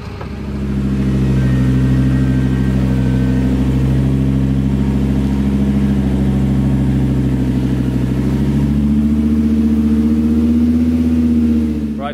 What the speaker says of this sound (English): Okay, it's blown. Sounds like a bag of nails.